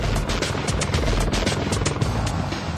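An AH-64 Apache attack helicopter in flight, its rotor producing a steady, rapid thudding beat over a broad engine roar, fairly close and continuous.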